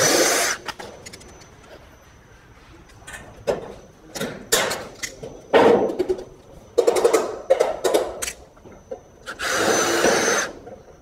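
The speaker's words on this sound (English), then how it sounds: "Just make sure when you're drilling out these holes that you hold the stop end nice and still when" A power drill bores holes in a metal gutter stop end for rivets, sounding in short, loud whirring bursts of varying length between quiet pauses. A longer burst comes near the end.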